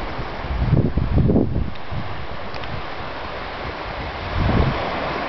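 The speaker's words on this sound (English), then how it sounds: "Waves coming in." Ocean waves rolling in on a beach near Nelson, New Zealand, soft washes swelling a couple of times over a steady hiss of surf and light wind noise, moderately distant and fairly quiet.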